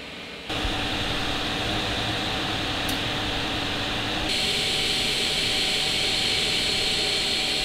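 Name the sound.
Creality CR-M4 3D printer cooling fan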